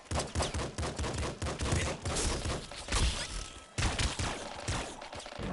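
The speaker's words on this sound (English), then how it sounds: "Explosions could actually stop fucking bullets." Loud, relentless volleys of gunfire with explosive bursts in the Nuclear Throne video game, shots packed tightly together with only a brief drop in the middle.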